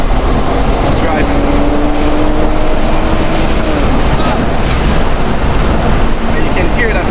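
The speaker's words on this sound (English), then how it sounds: "And you can hear that turbo whistling." Turbo whistle from a boosted Toyota Mark X 350 under acceleration in drive, a faint rising whine buried in loud, steady road and wind roar, continuous throughout.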